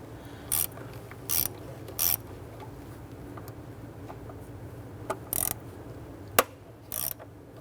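A hand ratchet loosens T20 Torx screws on the throttle body of a 2011-2021 Jeep Grand Cherokee 3.6L V6, giving several short bursts of rapid clicking separated by pauses over a low background hum.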